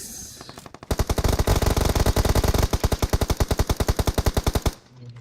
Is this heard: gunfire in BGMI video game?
yes